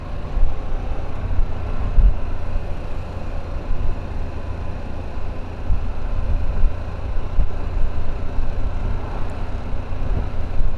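A Harley-Davidson Pan America motorcycle cruises down the interstate in hot weather, heard as a continuous low engine hum buried in heavy, gusting wind roar with occasional buffeting thumps.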